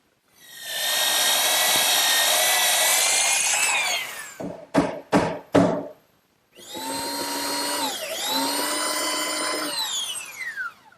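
A belt sander grinds excess wooden dowel flush on a chair-table woodworking project. A loud, steady motor whine runs for a few seconds, then come several short bursts and another long run, with no talking.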